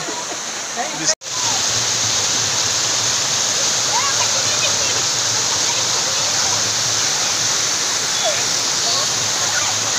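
Bhaje waterfall near Lonavala roars as a loud, continuous broadband rush of falling water, close and unbroken apart from one sharp dropout near the start, with voices faintly beneath it.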